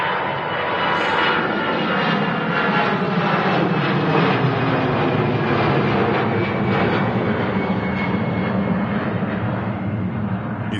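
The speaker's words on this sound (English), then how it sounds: "easyJet on the way out to Hamburg." An easyJet jet airliner departs Manchester Airport bound for Hamburg, its engines roaring in a steady, loud, continuous wash of broadband noise that holds at full strength throughout.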